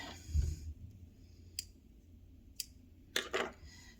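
Scissors snip through a length of doubled sewing thread, giving a few sharp, isolated clicks spaced apart in an otherwise quiet room.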